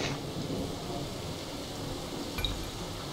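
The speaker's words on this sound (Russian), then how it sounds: "Быстрее, гроза уже близко." Steady rain hisses throughout a thunderstorm in the video game Pit People, with a faint low rumble and a brief soft thud partway through; no one speaks over it.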